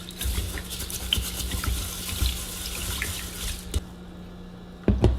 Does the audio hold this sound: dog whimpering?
no